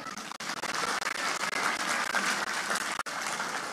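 A church congregation claps steadily and loudly in a dense, continuous burst of applause, with no talking over it.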